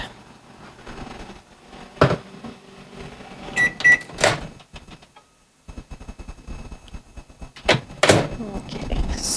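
A microwave oven heats a small amount of ingredient, likely coconut oil, for a protein ball recipe: door clunks, a run of electronic beeps and a low hum, with a pause in the middle and another door thump near the end.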